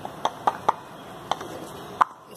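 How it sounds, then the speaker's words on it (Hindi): Shami kabab mixture ground in a hand food chopper gives a series of sharp, irregular clacks and chops, fairly close and distinct, with short pauses between strokes and no talking. "अब हम ये इस चॉपर में इसको पीसेंगे"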